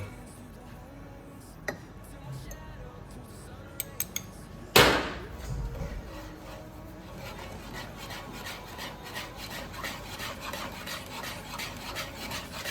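A spoon scrapes and rubs around a pan of thick Bombay halwa being stirred continuously, soft rasping strokes with a few clinks and one sharp knock partway through.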